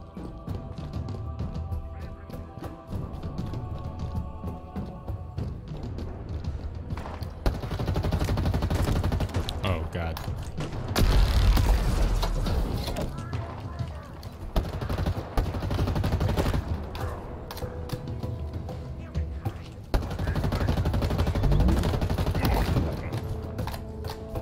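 Sustained gunfire in Halo Infinite, with rattling automatic bursts and sharp single shots rising and falling in dense waves over about twenty-five seconds of loud combat noise.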